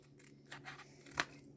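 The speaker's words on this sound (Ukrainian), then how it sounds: "Давайте тут трошечки прийдеться надрізати пакетик." Scissors snip open a plastic packet, giving a couple of faint rustles and then one sharp, close cut, quiet and brief with no talk.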